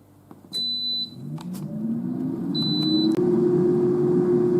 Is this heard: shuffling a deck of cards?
no